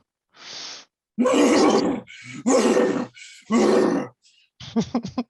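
A voice imitates horses, producing several loud, drawn-out whinnying and groaning bursts separated by short pauses, followed by a choppy, stuttering neigh.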